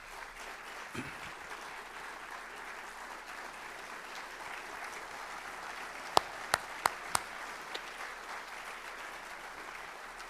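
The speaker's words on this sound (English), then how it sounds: "I want her to stand up and receive an applause" Steady applause from an audience at an architecture finalists showcase, a soft continuous patter of clapping heard from a distance, with a few sharper claps standing out.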